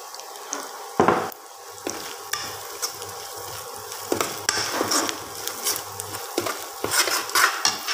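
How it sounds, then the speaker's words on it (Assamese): A utensil stirs turmeric powder into a pan of sizzling fish curry made with sesame seeds, with scraping strokes and clinks over a steady frying hiss, close up and without talking. "এতিয়া মই ইয়াতে অলপ হালধি গুড়ি দি দিম"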